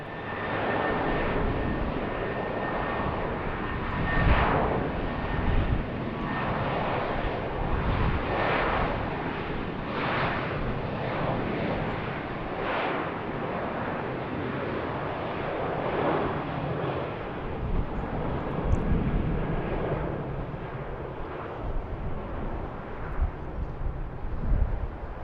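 An airplane departs a BWI airport runway in the afternoon, its engine roar loud, broad and sustained throughout, with wind buffeting and no voices.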